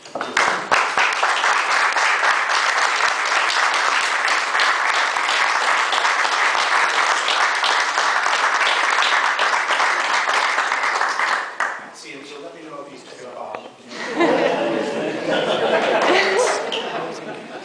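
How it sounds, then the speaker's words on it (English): A book launch audience gives sustained, loud applause for about eleven seconds, then the clapping thins out briefly before a second wave of applause mixed with crowd chatter. "So if I could just pray upon you to give some applause."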